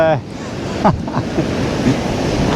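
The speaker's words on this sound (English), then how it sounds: "You can probably hear the surf. Probably got wind on the microphone." Sea surf rolling onto North Donmouth Beach near Aberdeen, a steady loud wash of waves with heavy wind buffeting the microphone and a voice briefly heard near the start.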